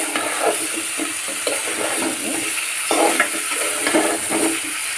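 Small puti fish curry fries in a pan under a continuous bright sizzle, with soft repeated scraping stirs and light utensil clinks, close and steady.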